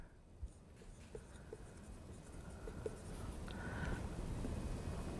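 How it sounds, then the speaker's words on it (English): Marker or chalk writing on a board during a calculus lecture, soft scratchy strokes with light taps, faint and fairly close, building slightly toward the end. "So I'm going to go over here to this board and write that down"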